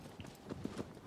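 Horse hooves galloping in the Shadow of the Colossus video game, a quick uneven run of soft clopping beats, fairly faint and close, with no talk over them.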